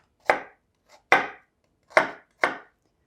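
Knife chopping an onion into cubes on a cutting board, four sharp separate chops at an uneven pace, close and clear, with no talking.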